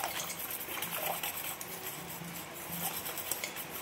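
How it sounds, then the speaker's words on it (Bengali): Milk poured into a larger pot of milk while making homemade yogurt, a steady liquid trickle and gush that runs continuously at close range. "এবার এই পুরো দুধের মধ্যে আমি এই দুধটাকে ঢেলে দেব।"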